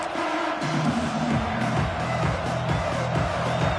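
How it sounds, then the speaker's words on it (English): A football stadium crowd roaring behind the defense on third down, a dense sustained wash of cheering at steady loudness with tonal horn-like sounds layered through it. "Decibels rising as the crowd gets behind this defense on third down."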